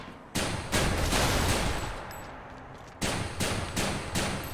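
Adamant Rail weapon firing in the Hades video game: loud sustained bursts of rapid gunfire, one long volley followed by a short gap and a second burst, with no talk over it.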